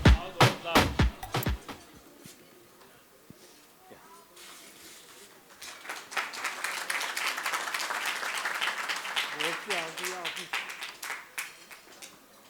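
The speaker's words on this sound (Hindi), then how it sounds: "एक बार ज़ोरदार तालियां इस इमोशंस के लिए।" Audience applause at an event celebrating a helmet company's history, starting with a few scattered claps, then swelling into sustained clapping from a crowd with voices talking underneath.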